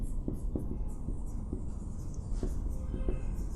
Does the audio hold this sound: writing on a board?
yes